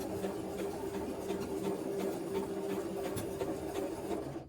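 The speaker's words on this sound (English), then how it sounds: "I'm just going to start sewing. I'm making the needle come down right along my traced line." A sewing machine stitches a dart along a traced line in shirt fabric, giving a steady, close mechanical whir with a fast needle rhythm that runs without a break and with no talking.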